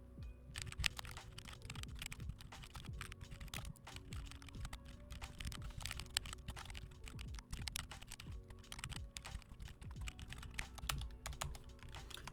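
Rapid, continuous clacking of keys on a computer keyboard while coding, close and steady throughout with no talking.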